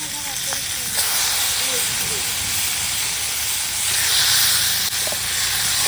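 Duck meat hitting a hot pan over fried onions on a strongly burning fire, a loud, continuous hissing sizzle that fills the whole stretch without pause.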